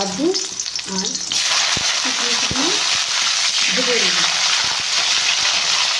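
Cashews sizzle in hot white oil in a pan, a steady loud frying hiss that starts abruptly and continues throughout, with a few stirring clinks. Faint voice murmurs early on.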